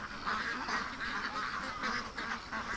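A flock of ducks being raised on a small farm quacks and honks continuously, overlapping nasal calls in a steady rhythmic chatter, moderately close but fairly faint.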